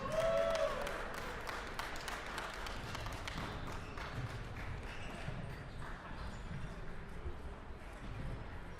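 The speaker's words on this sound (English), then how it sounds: "Go ahead, give them a round of applause, please." Audience applause in a gym hall during team introductions at a college table tennis national championship, a steady broadband patter of clapping that carries through the whole stretch, with a voice speaking faintly underneath.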